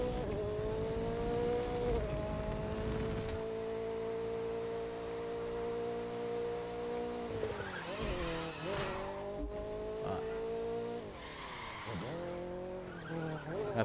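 A car engine in The Crew 2 drones steadily, revving up and down with brief tire squeals, loud and continuous throughout.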